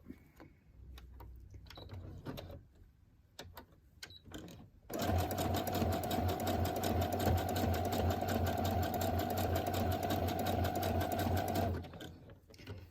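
An electric sewing machine stitches fabric with gold thread, running in one loud, steady, continuous whir for about seven seconds before stopping, after a stretch of quieter handling noises.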